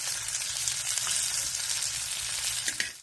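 Pomfret fish coated for Goan rava fry sizzling in a pan, a continuous close hiss of frying oil with a faint stir near the end.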